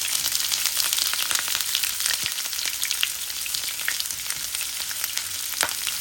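Chopped onion fries in hot oil in a pan, giving a close, steady sizzle dotted with sharp crackles and pops that run the whole stretch with no voices.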